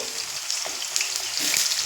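Cut potatoes go into hot oil already crackling with panch phoron and chilli, giving a steady, bright sizzle and frying hiss with light stirring noises.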